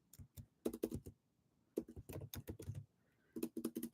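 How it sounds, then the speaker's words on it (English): Bursts of keyboard typing on a computer, clusters of quick keystrokes separated by short pauses, close and fairly quiet with no talking. "let me just type this"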